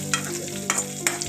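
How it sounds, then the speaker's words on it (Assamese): Onion, panch phoron and green chillies fry in a pan, a soft steady sizzle with three brief louder stirring scrapes spaced evenly, close and alone without talk. "এতিয়া এই সকলোবিলাক অলপ সময়ৰ কাৰণে ভাজিব লাগিব"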